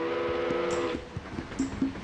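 The whistle of a very tiny train in the video game Grandia sounds one sustained, reedy blast, then fades into soft rhythmic chugging puffs as the little engine sets off.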